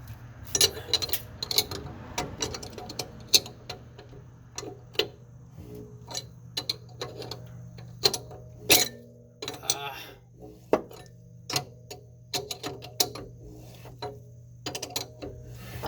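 Repeated ratcheting clicks and metallic ticks from cranking the adjuster on a BC Racing rear coilover for a 1994 Mazda RX-7 FD3S, in irregular bursts over a low steady hum, with a voice speaking intermittently.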